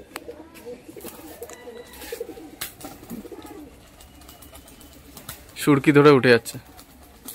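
Pigeons coo softly through the scene under steady speech, with a louder burst of fluttering, cooing activity near the end as a bird flies up.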